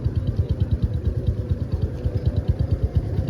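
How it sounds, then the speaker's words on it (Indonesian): A Honda Supra X 125 FI motorcycle engine idles close by, with a steady, even low putter and light mechanical clatter throughout, and no voices. "Ini dalam kondisi mesin nyala guys."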